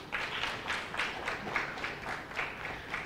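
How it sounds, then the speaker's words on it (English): A school audience at a zonal quiz championship claps steadily for a team, a soft, fairly distant patter of many hands lasting a few seconds, with no voices. "And clap for SWAT too."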